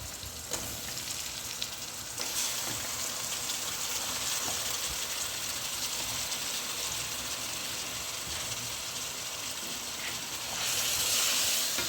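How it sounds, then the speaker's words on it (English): Lamb pieces and masala frying in a pan for mutton curry, a steady close sizzle and hiss that runs throughout, swelling louder at the very end. "So let all this fry, guys. And I'll place my meat."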